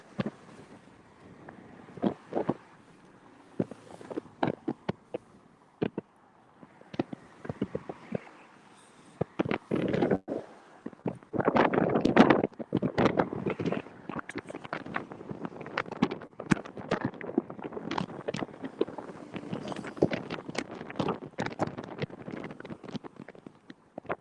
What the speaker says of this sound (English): Wind is intensifying.